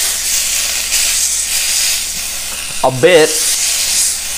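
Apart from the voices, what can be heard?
steak sizzling and hissing in a pan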